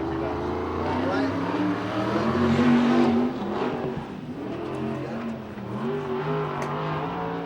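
A USAC/CRA sprint car screams around the Hanford track during qualifying, its engine rising and falling in pitch as it laps at a distance, with people talking nearby over the roar.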